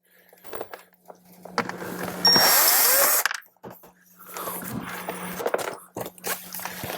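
A power driver whirs and bites as hidden screws are backed out of the dash panel of a 2018-up Jeep Wrangler JL, a loud burst of about a second between quieter scraping and handling noises close by.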